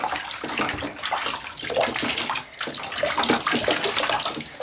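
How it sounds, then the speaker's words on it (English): A baby splashing and kicking water in a bathtub, with steady broadband sloshing and splashes throughout, close and fairly loud. "Splash that water. Splash, splash, splash."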